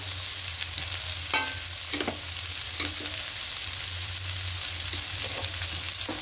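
Vegetables sizzle in hot oil with ginger-garlic paste for a spinach and prawn dish, a steady close frying crackle broken by a few scraping stirs of the pan.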